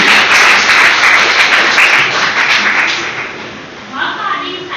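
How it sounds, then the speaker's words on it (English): An audience at a school English debate competition claps for a speaker, loud dense applause at first that fades after a few seconds, with a faint voice near the end. "Let us give a round of applause for Archie"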